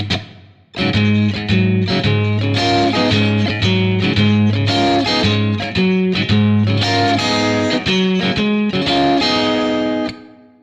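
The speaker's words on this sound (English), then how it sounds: "here's the riff without the effect" Clean electric guitar playing a riff with no effect, a steady rhythmic pattern of repeated chords and notes, loud and close, with no talking.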